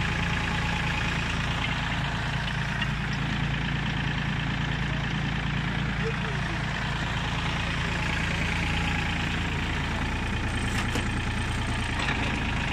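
An Iseki TF21F Japanese mini tractor engine revs in second gear, a steady mid-level hum that holds even and drops slightly near the end.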